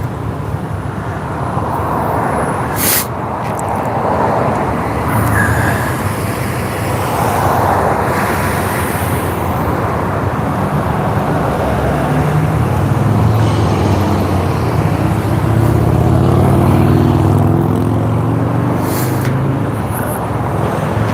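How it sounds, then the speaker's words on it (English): Rush hour traffic in Denver heard from a rider on an electric unicycle, a steady loud roar of passing cars and engines with wind rushing across the microphone, swelling louder toward the end. "It's always fun being in the middle of rush hour traffic."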